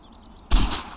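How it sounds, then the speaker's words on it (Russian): A single sharp gunshot in the video game Far Cry 4 cracks loudly and booms after a quiet moment, its low thump lingering briefly. "Готов, хороший выстрел."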